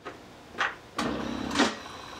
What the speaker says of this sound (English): Printer made a noise.